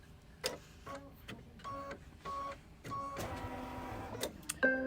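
Computerized embroidery machine, a Luminaire with the Solaris Upgrade 3, stitching couched letters: bursts of rapid mechanical needle clatter separated by brief pauses, close and fairly quiet.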